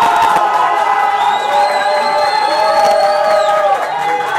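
A contest audience cheers and whoops for the contestant Sauna, a loud, steady crowd roar with high shouts, close and continuous throughout.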